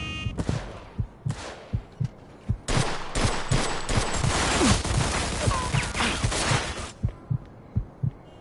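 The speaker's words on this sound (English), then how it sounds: "Got some nut job here shooting a gun" Gunfire breaks out in Mafia II, with sharp shots repeating at a steady pulse throughout and dense bursts of louder firing in the middle.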